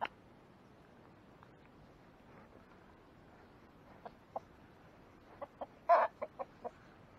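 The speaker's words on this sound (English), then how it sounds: "Chickens are feeding." Chickens on a sheep farm cluck softly while feeding, a few quiet scattered calls early on and then a closer cluster of short clucks near the end over a faint, quiet background.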